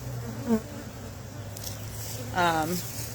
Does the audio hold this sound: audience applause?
no